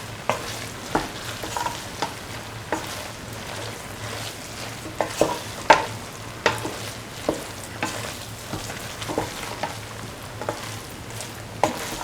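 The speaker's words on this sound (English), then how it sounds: "Mix in the rice." Rice with mung beans and ivy gourd being stirred in a hot pan, a steady soft sizzle with repeated close spatula scrapes and taps at irregular intervals, no voices.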